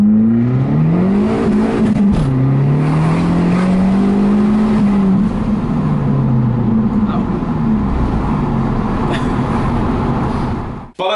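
A 250 horsepower turbocharged Abarth engine revs loudly and continuously, its pitch rising and falling through several surges with a rough, buzzing exhaust tone up close, before cutting off sharply at the end.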